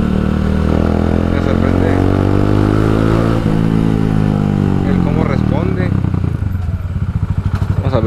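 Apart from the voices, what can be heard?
Italika DT 150 motorcycle with 250Z engine running, test ride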